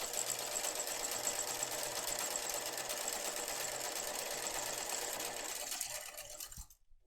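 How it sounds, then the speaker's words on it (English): A sewing machine runs steadily, stitching down the long edges of tape for a backpack strap, a close, continuous mechanical whir that slows and stops at the very end. "you want to sew down each long edge to close that open tape edge"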